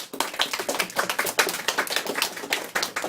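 A class of children gives a burst of brisk, dense hand clapping, close and lively, with uneven rapid claps sustained throughout and no talking.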